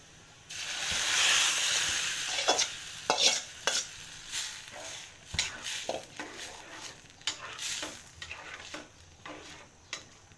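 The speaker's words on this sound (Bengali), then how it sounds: "আমি এখন বাগারটা দিয়ে দিব" Onions fried until red sizzle in hot oil as a spice tempering is added for a Bengali leafy greens and lentil dish, with a loud hiss at first, then repeated scraping stirs and utensil clinks over continued frying.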